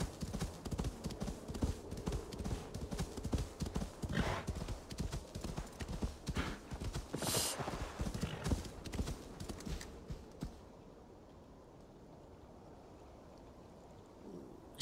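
Horse hooves clip-clop steadily in Assassin's Creed Valhalla, a rapid rhythmic gait over game ambience and water, with a brief whinny-like cry, then the hoofbeats stop and a quiet background remains.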